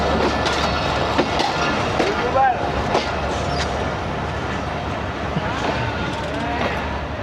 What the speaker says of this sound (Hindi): तो जनाब आ गई है अवाम एक्सप्रेस